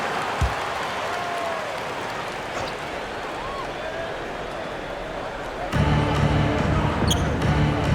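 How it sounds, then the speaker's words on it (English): Basketball arena crowd noise with clapping during a PBA semifinal game timeout, steady under an announcer's voice, then growing louder and denser with music-like tones joining in the final seconds. "Let's give them a round of applause for Florida Gators dancers."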